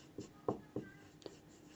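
Short strokes of writing on a board, a handful of brief scratchy marks spaced unevenly across under two seconds, faint and close with no voice over them.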